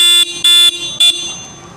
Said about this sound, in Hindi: तो इसमें आपको सिंगल हॉर्न मिल रहा है